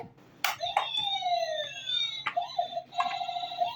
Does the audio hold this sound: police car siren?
yes